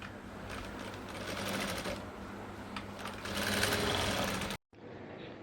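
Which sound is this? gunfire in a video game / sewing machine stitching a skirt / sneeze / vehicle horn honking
sewing machine stitching a skirt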